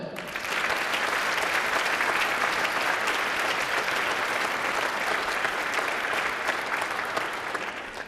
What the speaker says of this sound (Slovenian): En močan aplavz tudi za flavtistko Loti Krošelj.